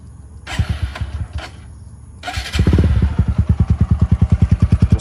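A TVS Apache RTR 160 4V motorcycle with a modified stock exhaust starts up after a couple of cranking bursts, then settles into a loud, close, rhythmic idle with a steady popping exhaust pulse.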